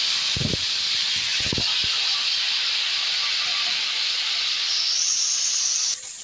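Water splashed into a pan of frying spice paste of cumin, turmeric and chili powder for an onion- and garlic-free vegetable dish sets off a loud, steady sizzle and hiss, with a few short clatters early on.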